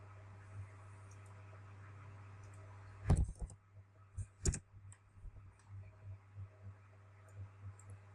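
A computer mouse gives a quick pair of sharp clicks for a double-click, then a few fainter scattered clicks, close and quiet over a steady electrical hum.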